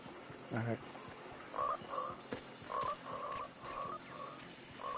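Frogs croaking inside a video game, a run of short, repeated croaks at moderate loudness coming in irregular bursts, with a brief voice and a few clicks around them.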